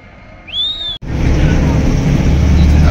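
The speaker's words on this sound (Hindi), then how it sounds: "स्नो बाइक ये रही, ये देख सकते हैं भाई" A snow bike engine at Sonamarg roars up abruptly and keeps a loud, steady drone after a brief whistle-like tone and a moment of near silence.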